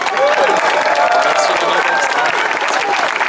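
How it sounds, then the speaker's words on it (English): A crowd applauds and cheers at the Mystic Timbers roller coaster opening ceremony at Kings Island, loud dense clapping filling the whole moment. "so give him a nice round of applause."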